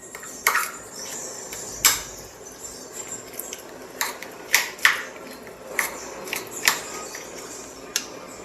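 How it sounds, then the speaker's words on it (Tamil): Vegetables being mixed with chaat masala and veg mayonnaise for a khakra sandwich: a spoon clinks and scrapes against a bowl in irregular, light taps, close and fairly quiet, with no talking. "இது எல்லாத்தையும் நல்லா மிக்ஸ் பண்ணி விட்டுக்கலாம்."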